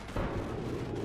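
A heavy booming blast with a rumbling tail from grenade launcher fire in Call of Duty 4: Modern Warfare, loud and close, one short burst of explosive noise.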